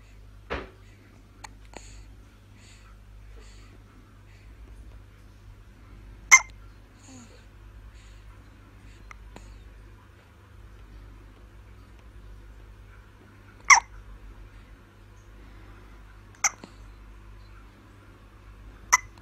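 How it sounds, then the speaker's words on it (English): Several sharp, isolated hiccups come at irregular intervals over a low, steady indoor hum, each one a brief click-like catch of breath and mostly a few seconds apart. "Got hiccups. Oh no."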